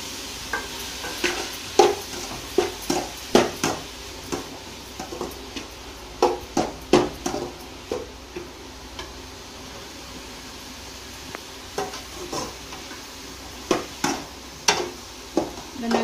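Carrot and beetroot pieces stirred in a hot pan, a spoon scraping and knocking the pan in irregular bursts over a faint steady sizzle.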